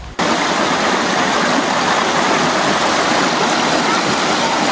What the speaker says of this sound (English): there is a beautiful river streaming into cave, and the sound of water is amazing